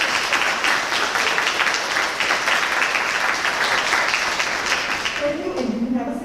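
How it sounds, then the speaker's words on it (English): At a school honors night, the audience gives a sustained round of applause for the silver cord 2021 honorees, thick steady clapping filling the hall before a voice speaks over its fading tail. "A big round of applause, please, for your silver cord"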